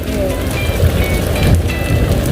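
Heavy rain pours steadily at a Thai fishing pond during a giant catfish fishing session, a dense, close hiss with no voices heard.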